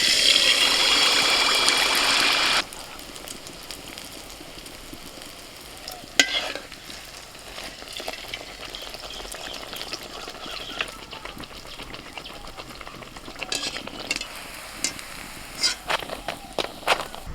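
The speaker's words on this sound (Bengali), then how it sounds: "তেল গরম হয়ে গেছে, এবার একে একে মালপোয়াগুলো আমি ভেজে নেব।" Malpua batter frying in hot white oil in a wok, a loud steady sizzle for the first few seconds, then a quieter crackling bubble with scattered pops and clinks of a spoon, no talking.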